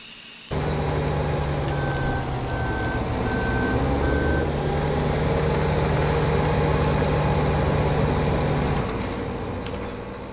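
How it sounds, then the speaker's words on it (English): A tractor is parked in Farming Simulator 17, its engine droning steadily while a clear reversing alarm beeps in an even, repeating rhythm. The engine hum fades near the end. "I just want to park my tractor"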